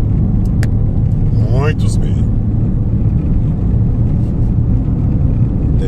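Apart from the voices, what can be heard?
cars passing on the PI-143 road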